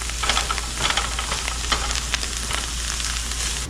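Chanterelle and hedgehog mushrooms sizzling in a hot pan as they are stirred, a loud, steady hiss of frying with soft scraping pulses from the spoon over a low hum, no talking.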